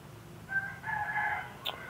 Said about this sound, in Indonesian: Ini tretekannya aja keras teman-teman, cuma burungnya belum mau jalan, keras ini